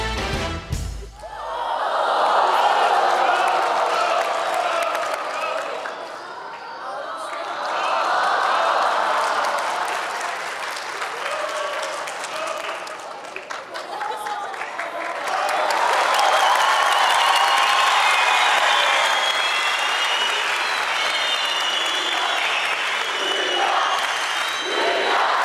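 Audience applause and cheering at a televised Turkish talent show stand-up performance, a sustained loud crowd wash that swells, dips around the middle, then surges again and holds to the end.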